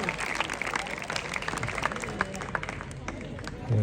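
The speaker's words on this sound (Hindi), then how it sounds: "जोरदार तालियां हो जाए डॉक्टर साहब के लिए" Crowd claps for a visiting doctor at a government senior secondary school event in Dobhi village, a brisk burst of applause with some murmuring voices mixed in.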